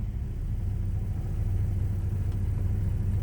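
Steady low idle rumble of a 1955 Studebaker Speedster's engine, heard from inside the cabin, constant and close with no talking.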